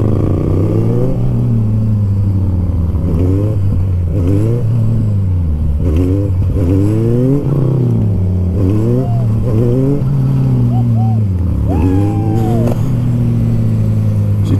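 A motorcycle engine revs hard during wheelie attempts, loud and close. The pitch surges and falls repeatedly with throttle blips and a clattering exhaust note.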